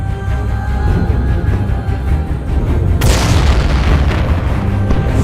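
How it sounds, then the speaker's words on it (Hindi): Heavy gunfire and explosions as Indian forces open fire roar in a dense, continuous barrage, with a big booming blast midway that thickens the loud rumble. "भागो! इंडिया ने फायर खोल दिए।"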